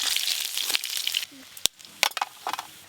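Fish sizzles as it fries in a pan, giving a moderate crackle that fades after a second or so, followed by a few sharp clinks and scrapes as pieces are lifted out.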